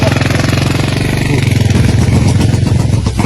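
Close, loud motorcycle engine running steadily with a rapid, rough pulsing idle throughout, with no talk over it.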